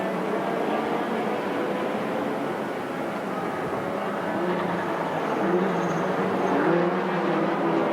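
Touring cars race on a track at the Malaysia Touring Car Championship, TP2000 class, a steady blended engine roar from several cars running close together, heard at a moderate distance with no talk.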